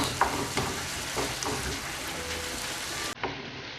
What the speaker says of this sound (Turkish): Şimdi kıymayı ekliyoruz tane tane olması için eze eze kavuruyoruz.